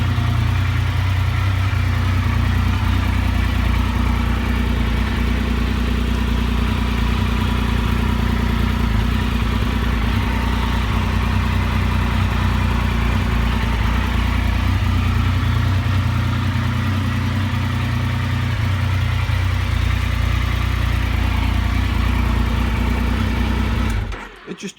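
Motorbike with a straight bar conversion, engine running steadily and close for over twenty seconds, a continuous low throbbing drone with slight swells in revs, cutting off abruptly at the end.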